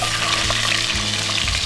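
Steady, close sizzling of asparagus frying in hot olive oil, a constant crackling hiss with occasional soft stirring sounds.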